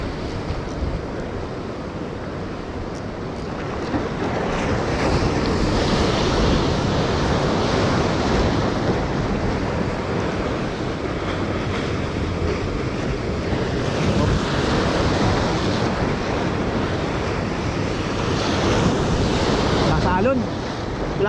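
Continuous crashing ocean waves at a fishing spot in Salalah, Oman, with strong wind gusting against the microphone, loud and close, swelling louder after the first few seconds.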